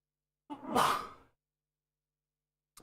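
A single sneeze, close and fairly loud, a short burst that fades quickly, followed by silence and a brief faint noise at the end.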